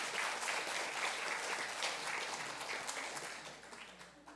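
A church congregation applauds to welcome guests, a soft, distant, steady patter of many hands that slowly fades out.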